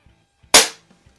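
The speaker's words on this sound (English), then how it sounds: "let's go ahead and shoot 6 shots across the chronograph" A single sharp crack from a Barra Schofield 7-inch chrome CO2 BB revolver fired over a chronograph, one loud close shot with a quick fading tail and quiet faint clicks around it.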